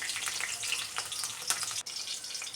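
Green chilies fry in hot coconut oil in a pan, making a dense, close crackling sizzle that stays constant throughout the short moment, with no voices.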